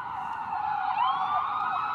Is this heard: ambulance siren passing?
yes